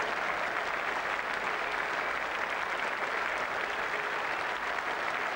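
A cricket crowd applauds Brian Lara reaching 150 for the West Indies against England in a 1995 Test, a steady, even roar of distant clapping throughout.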